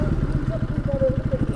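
Nearby, a motorcycle engine ticks over on a Kathmandu motovlog ride, giving a steady train of rapid, even low thumps with a slight clatter.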